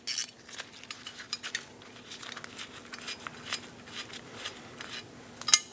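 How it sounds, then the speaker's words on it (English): Metal tool clicks and small clinks as an E5 bit and 10mm wrench back a stud out of its nut on a Chevrolet Express rear side door handle, faint, irregular and close. "Using a E5 bit and a 10mm wrench, I'm going to hold the nut still while I remove the stud from the nut"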